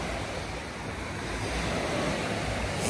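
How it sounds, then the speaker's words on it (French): Sea waves wash onto the beach at Saint-Tropez in a continuous, loud surf roar with some wind rumble, steady and close throughout, with no voices. "Il y a des vagues on dirait, il y a plus de vagues."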